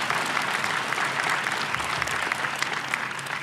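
A large audience applauds at a university inauguration ceremony, a dense and steady wash of clapping that carries on without pause.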